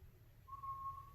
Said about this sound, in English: sorry, whistling. I know it can be loud on camera.